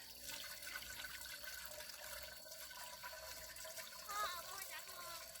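Priming water is poured into a 3-inch water pump, a steady splashing gush running without break, close by, with people talking over it.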